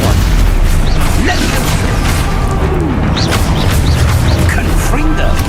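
Booming spell explosions from Confringo and Expulso casts in Hogwarts Legacy, loud and continuous with repeated bursts under talking.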